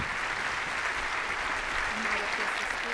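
A studio audience gives sustained, steady applause welcoming former Brazilian president Fernando Henrique Cardoso as guest of the night, dense and even clapping throughout.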